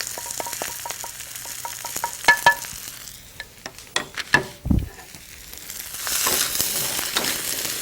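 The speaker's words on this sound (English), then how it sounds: "So next, we add our zucchinis" Zucchini and coriander powder hitting a hot pan for an Indian entree, with a soft steady sizzle, a few sharp clatters and stirring scrapes, then a louder hiss of frying building near the end.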